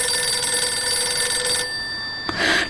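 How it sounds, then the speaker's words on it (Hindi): A steady electronic telephone ring with sustained bright tones, fairly loud, cutting off partway before a short burst of noise. "हो सकता है अम्मी का फोन हो।"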